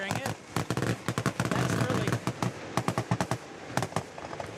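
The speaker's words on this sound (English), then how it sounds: "they still do the fireworks that are out here, and that's good to see" Fireworks go off at a high school football game, a rapid and irregular barrage of loud crackling bangs over crowd noise outdoors.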